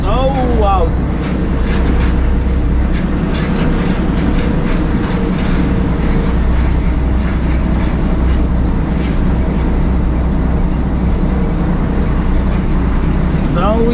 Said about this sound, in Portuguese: para quem gosta de ouvir o barulho aí do caminhão